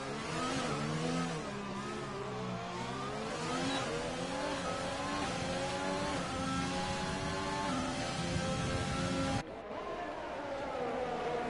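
A Formula One car engine in Grand Prix 4 at the Monaco Grand Prix, with a steady high-pitched whine that rises and falls through gear changes, heard close and alone before a sudden cut.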